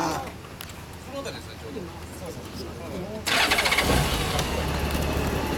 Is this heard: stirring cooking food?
no